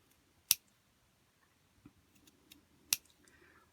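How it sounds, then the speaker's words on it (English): Scissors make two crisp, quiet snips about two seconds apart while cutting slits into a doll's fabric seam allowance, with faint rustling of cloth between them. "And then we need to go around that and cut slits up to the line"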